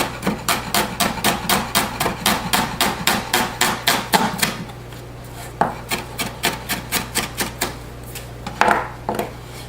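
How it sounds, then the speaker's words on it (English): A knife roughly chopping cilantro on a board makes rapid, evenly spaced crisp thuds. They pause briefly midway, then resume in a quicker burst before a few final louder knocks, close and loud. "Cilantro, just a rough little chop"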